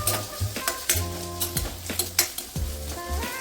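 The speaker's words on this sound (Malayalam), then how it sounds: "ക്യാരറ്റ് ചേർത്ത് ഒരു 2 മിനിറ്റ് വഴറ്റുക." Carrots sautéing in oil for a Kerala sadya masala curry, with bursts of sizzling and repeated scraping and clinking of a spoon against the pan in a quick, uneven rhythm.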